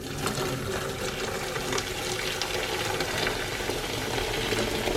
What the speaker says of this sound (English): I'm going to get my boiling water and I'm going to pour it in on top of it